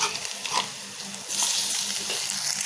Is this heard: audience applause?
no